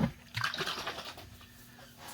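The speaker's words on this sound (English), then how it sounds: "So I'm going to pour that into our bowl over here." Melted butter, with a small lump still dissolving, is poured into a bowl while making hot wings, giving a short, close splash and trickle that quickly fades to a quiet liquid murmur.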